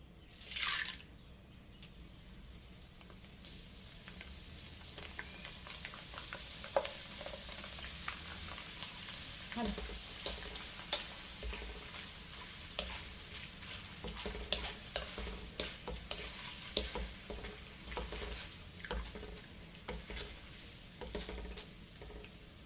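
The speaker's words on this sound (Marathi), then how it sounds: "अगदी एका मिनिटात हे पोहे असे तळले जातात" Steady sizzling and crackling of poha (flattened rice) flakes frying in hot oil for corn chivda, with scattered pops and occasional stirring sounds throughout.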